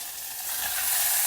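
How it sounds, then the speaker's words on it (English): Chopped shallots and a dry red tomato sautéing in a hot pan with onion, a steady soft sizzle that swells slightly louder partway through, with no voices. "Saute that also for a couple of minutes along with the onion."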